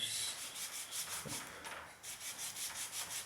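Hand sanding on a wooden kayak part, with steady repeated rubbing strokes of abrasive on wood, close and fairly quiet, in a regular back-and-forth rhythm.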